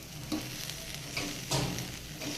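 Home-grown moong dal and rice are fried in a pan for vegetable khichuri. A quiet, continuous sizzle carries three or four soft spatula scrapes, close by, with no speech.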